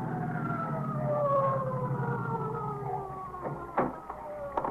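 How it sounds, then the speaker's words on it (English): A wailing siren sweeps in slow falling tones, moderately distant and steady, with an engine rumbling underneath and a few sharp knocks near the end. "That's either ESD or the ambulance coming now."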